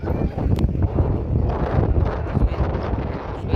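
Sea breeze at Bakkhali beach buffets the microphone in a continuous, loud, low rumbling gust that swells and dips unevenly, with faint rustling layered through it.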